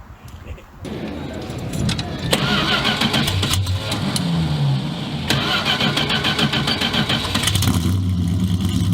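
A Dodge Demon V8 cold-starts with a sharp crank and catch, then settles into a loud, close, lumpy high idle with small rises in revs, with brief talk at the start.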